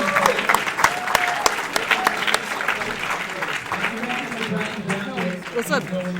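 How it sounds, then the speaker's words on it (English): An audience claps and cheers in sustained applause at the side stage of the 2019 Classic Tetris World Championship, a dense wash of hand claps with a few voices mixed in. "round of applause for this"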